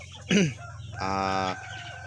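Backyard chickens of mixed breeds, including Rhode Island Red, Black Australorp and native birds, give a loud burst of clucking, then a rooster crows once in a long, steady, close call.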